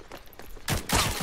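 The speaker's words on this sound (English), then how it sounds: "Ooh, I got shot by cannon." Cannon fire in the video game Ronin: a muffled low rumble, then a sudden loud blast with crackling bursts following close behind.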